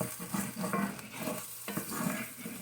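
Soft vegetables sizzle and fry in a pan while being stirred, with a steady crackle and gentle scraping, close and fairly quiet, for homemade empanada filling.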